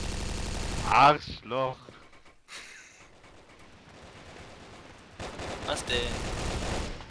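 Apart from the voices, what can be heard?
machine gun shooting in the video game Brick Force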